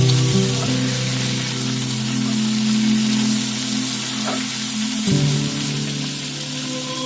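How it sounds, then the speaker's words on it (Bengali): Chopped tomato fries in a spice mix in a pan for egg pasta, producing a loud, even sizzle with a watery crackle, occasional stirring scrapes and a steady low hum beneath; nobody talks. "এবার মশলাটাতে দিয়ে দিতে হবে টমেটো কুচি এবার ভালো করে নেড়ে নিতে হবে"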